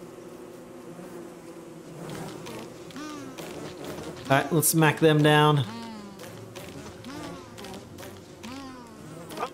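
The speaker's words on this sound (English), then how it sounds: "Oh, we also have the killer bees." Killer bees buzzing in the video game Don't Starve Together, a continuous droning hum with a louder burst of combat hits in the middle, while someone talks over it.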